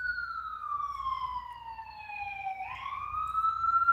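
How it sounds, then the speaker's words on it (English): Emergency vehicle siren wails past, its pitch falling steadily then jumping as it passes, fairly loud with road rumble beneath and growing louder toward the end. "I'm gonna let those sirens bypass us."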